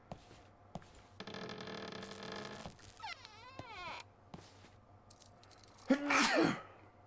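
A sneeze bursts out near the end, a single loud, close explosive sound rising after a quieter stretch of background game sounds and tones.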